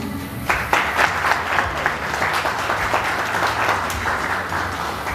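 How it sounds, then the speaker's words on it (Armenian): An audience at a film presentation evening applauds in sustained, dense clapping that fills the room, loud and continuous from start to finish. "Եկեք այս պահին ծափահարություններով ողջունենք ձեզ ձեր իսկ մասնակցության համար։"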